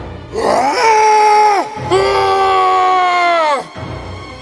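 Two long, anguished screams in a row, loud and close, rise then hold before cutting off, voiced as possessed men in a dramatized Bible reading.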